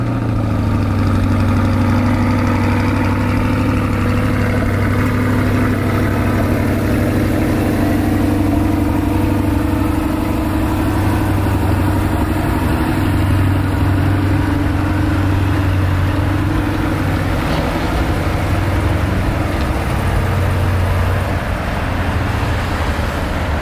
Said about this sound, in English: C8 cold start.